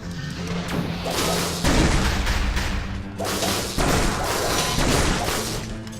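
A bomb enemy blows up in the video game Dead Cells: several heavy, booming thuds and crashes burst out in quick succession, loud and close, with brief pauses between the blasts.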